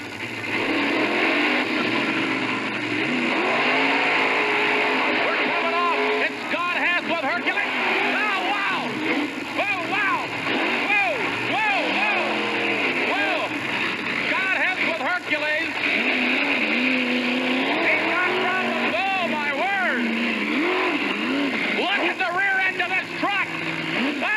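A monster truck called Hercules on a 1988 time trial run in Columbus, Ohio, its engine roaring steadily with repeated rising and falling revs throughout, a voice heard over it.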